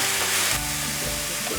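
Mushrooms fry in a little cooking oil, a dense, bright, close sizzle that holds steady for a moment with no voices.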